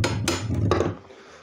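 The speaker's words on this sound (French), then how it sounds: "on va mettre un petit coup de marteau" A hammer taps a steel bracket into a wooden shelf, giving two or three close, loud, sharp knocks with a short ringing decay, followed by quiet room noise.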